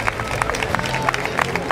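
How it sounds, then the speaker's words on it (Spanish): An audience claps for orienteering champions at a Spanish championship award ceremony in Guadix, a scattered, fairly close patter of hands with crowd murmur beneath. "Fuerte aplauso por nuestros campeones y campeonas en la categoría F12."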